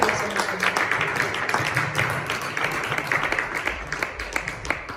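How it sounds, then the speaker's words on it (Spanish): Congregation applauding in a church service, a dense patter of clapping from many hands that carries steadily at moderate loudness with faint voices mixed in. "fuerte el aplauso al Señor."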